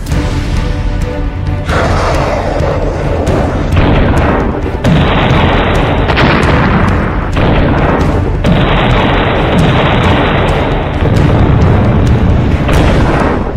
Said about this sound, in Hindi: पुतिन ने ओदेसा हमले के दौरान अपनी इस मिसाइल का बहुत ही खास वीडियो बनाया